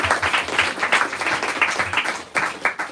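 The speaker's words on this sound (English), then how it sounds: "Yeah, I heard a clap." An audience claps at a poetry reading, a short burst of scattered, moderately loud applause from a small crowd, rising and fading unevenly over a few seconds.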